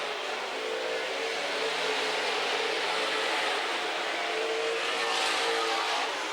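Super Stock race cars circle the track at Amsoil Speedway, a continuous blended engine roar of several cars heard from a distance, steady and moderately loud with a slight swell toward the end.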